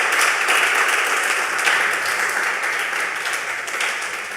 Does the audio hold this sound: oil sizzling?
no